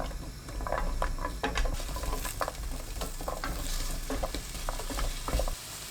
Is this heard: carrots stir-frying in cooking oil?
yes